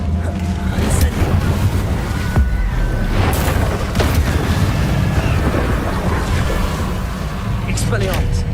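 In Hogwarts Legacy, an Incendio fire spell erupts as a loud, sustained roaring whoosh of flame with a few sharp bursts layered over dense game noise.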